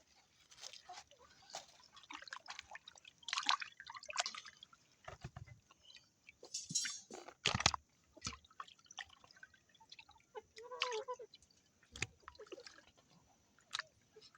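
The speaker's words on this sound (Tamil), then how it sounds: "இப்போ மீன் எல்லாம் வெட்டி தான் இதை வடிவாக கழுவி எடுப்போம்" Cut fish pieces being washed in water in a bowl, with soft irregular splashes, drips and sloshing close by, quiet and intermittent with no voices.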